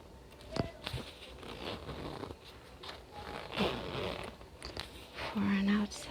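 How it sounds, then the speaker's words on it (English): A zipper on a handbag being opened in a quiet room, giving a few short scratchy zips and clicks of the metal pull, close and soft, with whispering nearby. "There's this zipper here."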